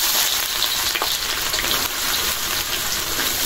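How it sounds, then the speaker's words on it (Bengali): Onions dropped into a hot pan for a fish dish, loud and close: a dense, constant crackling sizzle like heavy rain fills the whole stretch, with faint pops and a soft stir. "এখন দিয়ে দেবো পেঁয়াজ।"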